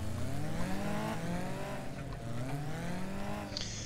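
BriSCA F2 stock cars on the rolling start lap of a Formula 2 final at Mendips, engines droning steadily together with pitch slowly rising and falling, a continuous loud pack rumble.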